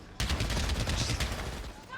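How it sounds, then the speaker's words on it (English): Stinger submachine gun fire rattles in a dense, rapid burst during a Valorant professional esports match, loud and continuous for nearly two seconds under a caster's fast commentary. "they're fighting with Stingers long range"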